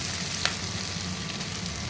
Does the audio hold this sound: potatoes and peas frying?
yes